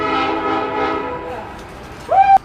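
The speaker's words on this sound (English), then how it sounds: "We have a steel train passing platform number 1." A steel freight train passing a station platform at Bargo, its horn-like harmonic tone sustained for over a second, then a sharper rising whistle blast near the end, loud and close without talk.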